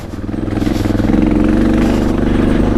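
A motorcycle ridden up a rough mountain pass road near Lake City toward Engineer Pass, its engine droning steadily and close with a pulsing, rhythmic chug and rattling clatter, building slightly then holding.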